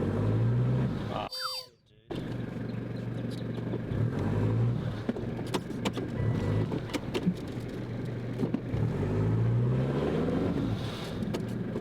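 A 4WD vehicle engine in low range, stuck in a deep puddle, drones steadily and rises in repeated revving surges, with a brief dropout early on and faint clicks and splashes around it.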